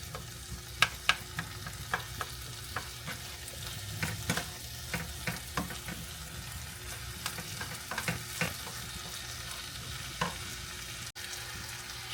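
A spoon scrapes and knocks through dirty rice made with turkey wings in a frying pan, irregular clatters over a soft background sizzle, fairly quiet and close, with no talking.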